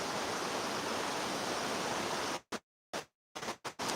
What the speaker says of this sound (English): Love the relaxing running water.